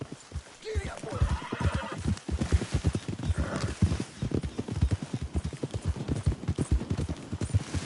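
A horse in the Red Dead Redemption 2 video game gallops with rapid, steady hoofbeats throughout and gives a loud neigh near the start, with no talk over it.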